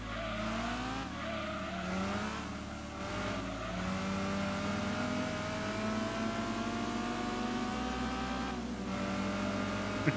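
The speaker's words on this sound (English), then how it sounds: "Oh, sounds like the engine's gonna explode." A race car engine in Gran Turismo 2 on the PlayStation revs hard and steadily, climbing through gear changes with a loud, continuous drone and faint tire noise, no talking.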